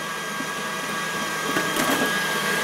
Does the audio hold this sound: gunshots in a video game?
no